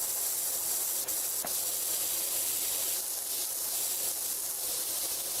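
Water sprays steadily onto a chair in a cleaning game, a continuous broad hiss that holds at an even level, with a couple of faint clicks and no talking.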